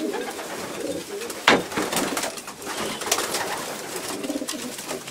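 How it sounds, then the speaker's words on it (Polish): Racing pigeons in a breeding loft coo close by in repeated soft throaty calls, with occasional wing flaps and a sharp rustle, while someone talks quietly in the background. "To jest też piękny gołąbek."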